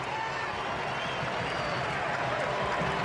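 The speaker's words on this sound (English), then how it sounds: "The German faithful in the crowd erupt." German football fans roar and applaud in a packed stadium after a goal against the USA, a dense, steady wall of crowd noise that holds at full volume throughout without letting up.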